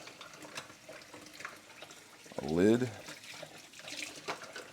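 Tap water runs in a kitchen sink while dishes such as a spatula and measuring cup are rinsed, a soft continuous splash under a person's talk, with a brief ringing clink partway through.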